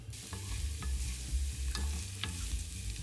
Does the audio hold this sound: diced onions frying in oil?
yes